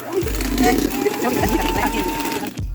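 An electric mixer whirs at low speed through cake batter, a steady motor hum with rhythmic churning, while a person talks over it before it cuts off near the end.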